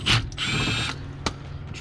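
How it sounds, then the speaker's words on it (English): A small cordless power tool with a 10mm socket spins out sump bolts on a Ford Mondeo 2.2 TDCi, a loud mechanical whirr lasting under a second followed by brief clicks and ratcheting knocks. "I've got my little deck with a 10mm on, and I'm just going to undo it this way. So much faster."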